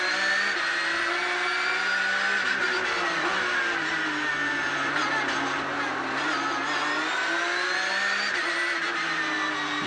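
Porsche GT3 Cup race cars scream through the turns in a dense, continuous high-revving roar, engine pitch sweeping down and back up as they brake and accelerate, loud and steady throughout.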